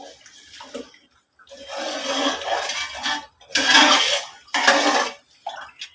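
Washed rice stirred in a pot of boiling water, heard as several sloshing, bubbling swirls with light scraping against the pot, in separate bursts with short quiet gaps.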